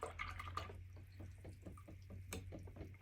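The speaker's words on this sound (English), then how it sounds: "Okay, I'm gonna rinse that out." A paintbrush rinsed in a water cup, faint quiet swishing and small drips over a low steady hum, brief and soft with no speech.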